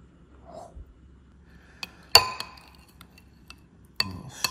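A few sharp glass clinks from stirring in a glass while Peruvian chicken is being made, with one loud tap near the middle and a cluster of clinks near the end, set against quiet room sound.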